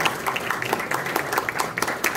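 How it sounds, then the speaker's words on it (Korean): An audience in a hotel ballroom applauds at an Automobile Day award ceremony in Seoul, with a steady, moderately loud patter of many hands clapping and a faint trace of voices. "큰 박수로 축하해주시기 바랍니다"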